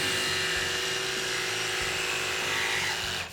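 A RIDGID 18V OCTANE cordless jigsaw cuts curves with a loud, continuous motor whine and rapid blade buzz that holds steady without bogging down, then cuts off at the very end.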